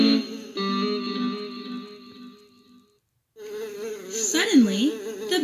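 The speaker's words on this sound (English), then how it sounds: "The only sound was the buzz of a lazy fly." A lazy fly buzzes in a hot barn, a close, wavering drone with rising and falling pitch that cuts out briefly and then returns.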